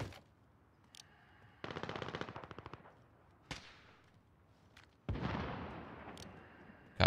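Bursts of rapid automatic gunfire in a Call of Duty match, distant and crackling, separated by single sharp shots and quieter gaps.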